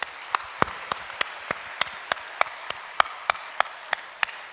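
Rhythmic unison clapping from a church congregation during a Sunday evening service, a steady beat of sharp claps roughly four per second over a low background murmur.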